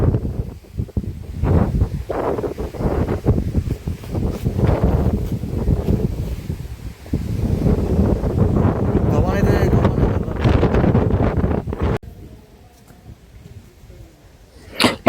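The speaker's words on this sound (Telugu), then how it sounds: "గాలి కూడా భయంకరంగా వేసుకుంది వాన ఒక రైన్ డ్రాప్స్ అయితే పడుతూ ఉన్నాయి" Strong wind buffets the microphone in loud gusts, with faint patter of light rain in the Nallamala forest; the roar drops briefly near the end.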